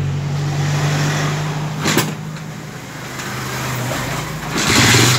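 A refreshed Honda TMX155 motorcycle engine idling steadily up close after servicing, a constant loud putter with a brief rise in revs near the end.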